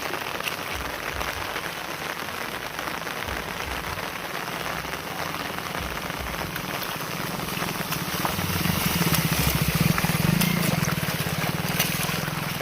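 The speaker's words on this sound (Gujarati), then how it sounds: "બાકી વરસાદ ચાલુ જ છે, તમે જોઈ શકો છો." Steady rain pours on a village lane after a downpour, a dense even hiss of drops on wet surfaces with water running, swelling slightly louder toward the end, with no voices.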